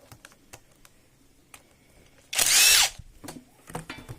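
A powered screwdriver whirs in one loud burst of about half a second while removing the cover screws of an Ecosoft water filter pump, between light tapping and handling noises.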